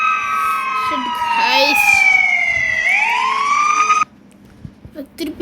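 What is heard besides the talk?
Siren Head siren in a Roblox video game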